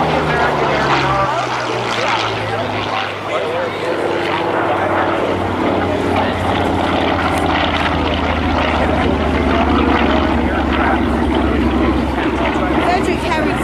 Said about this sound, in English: as we see coming in this time another P-40 Warhawk.